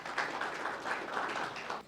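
An audience applauds at a panel discussion on neobanks, fintechs and traditional banks, a dense, steady wash of clapping from a room-sized crowd that fades slightly at the end.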